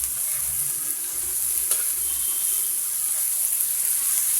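Onion, chili and garlic sizzle in a hot pan with a steady, even frying hiss throughout, joined by faint stirring scrapes close by.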